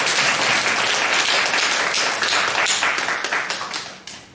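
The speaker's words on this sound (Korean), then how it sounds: "우리 요한이 위해서 박수 한번 다시 한번 치겠습니다" A high school youth congregation at an Easter church service claps together, a dense burst of applause that holds steady and then tapers off toward the end.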